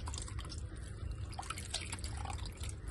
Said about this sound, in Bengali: এবার আমি মাছগুলোকে ধুয়ে বেছে পরিষ্কার করে নিই।